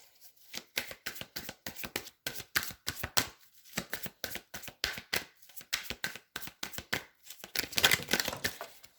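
Tarot cards being shuffled by hand at close range, a quiet, repeated riffle of crisp papery flicks in irregular bursts with short pauses between them, no voices.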